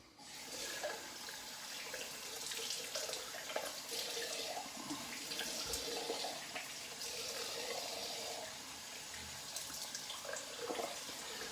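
Tap water running steadily into a sink for rinsing after a wet shave, a continuous soft splashing hiss with no talking.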